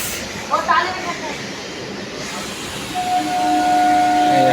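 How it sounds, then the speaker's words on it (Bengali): Steady rumble and hiss of a moving train, heard from inside an empty morning passenger carriage on a Sundarbans trip, with a brief voice near the start and a sustained whistle-like tone rising toward the end. "তো এই ট্রেন না পুরা খালি আমরা এই ট্রেনে চলে যাচ্ছি"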